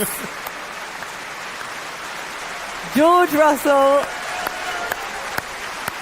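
An audience at a 2018 rookie of the year motorsport award ceremony keeps up a steady, rain-like wash of applause under an announcer's voice reading out a nominee's name.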